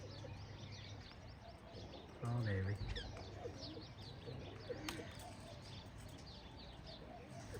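Pigeons coo and birds chirp in the background, with someone speaking briefly over the scene.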